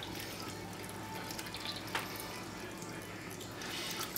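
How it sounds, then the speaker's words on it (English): Aquarium water and dead leaves siphoned through airline tubing during a tank water change, a soft continuous trickling with small drips and one brief slurping burst, quiet and close. "Here I found some dead leaves I'm sucking up with the airline tubing."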